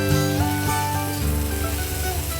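Taro fries in an oiled pan on full heat with a steady, dense sizzle that stays close and even throughout, overlaid by a few tonal hums.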